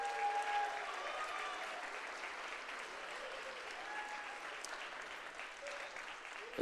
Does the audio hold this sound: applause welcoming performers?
yes